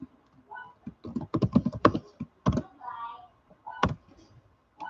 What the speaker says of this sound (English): Wonder if the typing noise was too much.